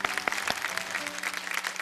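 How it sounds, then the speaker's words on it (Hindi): Studio audience applause welcoming actress Isha Koppikar onto a Hindi talk show, a steady burst of many hands clapping with a few sharper claps standing out, moderately loud throughout. "तो प्लीज जोरदार तालियों के साथ उनका स्वागत करते हैं।"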